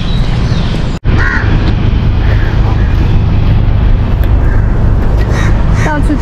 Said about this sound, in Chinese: 到处都可以听到乌鸦的叫声